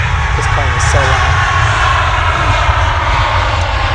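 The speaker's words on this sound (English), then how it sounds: "this plane is so loud." A loud airplane flies overhead, its engine roar a steady broadband drone filling the whole stretch without letup, with brief voice fragments heard faintly beneath it.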